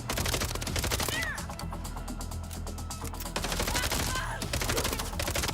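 Rapid gunfire from a weapon in the video game MindsEye, sustained automatic bursts with brief pauses, loud and dense throughout, with no speech over it.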